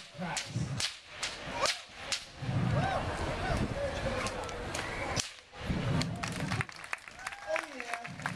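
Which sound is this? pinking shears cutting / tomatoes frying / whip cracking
whip cracking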